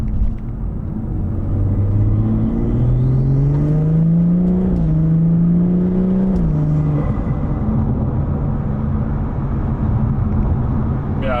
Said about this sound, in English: now I'll do some manual shifting for you guys